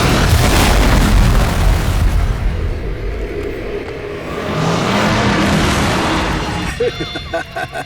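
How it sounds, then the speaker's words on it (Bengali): A plane crash and explosion effect from a TV crime drama: a loud, sustained roaring boom with rumbling debris, swelling again midway and breaking into scattered crackles at the end. "এবার এই প্লেনটা পড়বে।"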